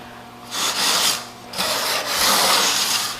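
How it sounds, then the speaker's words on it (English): Rubbing stone smoothing the cut edge of a tile during a mortar-bed shower installation, close abrasive scraping in two long strokes with a brief pause between them. "we also rub that edge too after we cut it with a rubbing stone"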